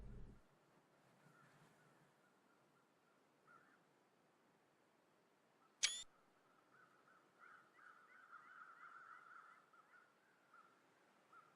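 One sharp camera-shutter click from a screenshot in The Long Dark video game stands out over a faint, quiet background of distant crow caws and soft wind.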